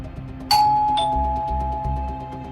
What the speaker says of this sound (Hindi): डोरबेल बजाई